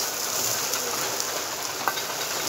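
Chickpeas and eggplant fry in a pan with a little oil, a soft, steady hiss and crackle close by, fairly quiet with a couple of small pops and no talk.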